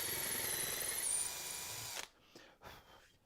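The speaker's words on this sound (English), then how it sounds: "I'm going to just countersink those straight into the hole" A drill with a countersink bit whirs steadily for about two seconds as it countersinks screw holes in a wooden keepsake box, then stops, leaving a few faint clicks and handling noises.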